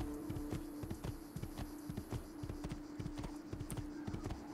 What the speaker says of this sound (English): And I got a horse.